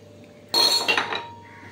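Water and salt go into a metal pressure cooker, producing a sudden burst of bright clinks and clatter that lasts under a second and then fades to quiet kitchen background.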